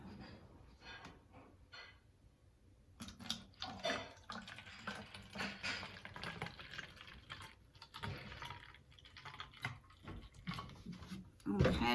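Water is poured into a jar while making a sensory relaxation jar, a splashing, trickling fill that runs steadily from about three seconds on, close and moderately loud.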